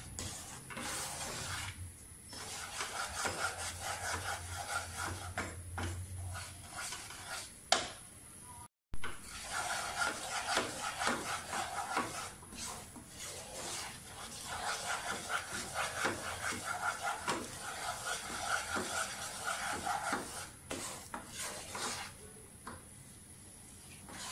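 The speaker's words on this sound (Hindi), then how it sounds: "तो 5-7 मिनट और भूनना है हमें।" Gram flour (besan) roasts in a pan for ladoos, giving a faint, continuous sizzling hiss broken by soft scraping stirs, with a low hum early on.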